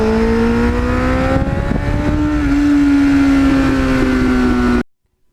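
A 1989 Kawasaki GPX750R motorcycle cruises along a road with its engine holding a loud, steady drone and slowly rising pitch, wind rushing over it, before the sound cuts off abruptly.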